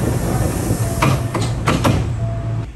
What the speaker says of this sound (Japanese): 烏丸駅を発車。